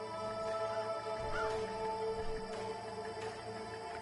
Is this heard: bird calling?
yes